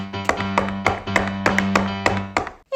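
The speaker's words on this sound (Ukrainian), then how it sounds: "І ось прийшов злодюга втретє до дверей, постукав та й каже." A wolf knocks on a wooden door in a Ukrainian audiobook of the Brothers Grimm tale of the wolf and the seven little goats: about eight crisp, evenly spaced raps, close and distinct, over a low steady background tone.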